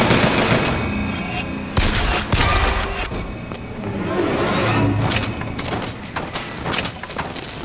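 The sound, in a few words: gunfire in BioShock Infinite video game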